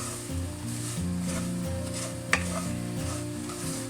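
Egg halwa batter sizzles steadily in a hot pan as a spoon stirs it. There is one sharp metallic clink partway through, and soft background music plays under the frying.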